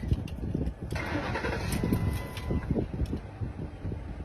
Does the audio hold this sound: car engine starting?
yes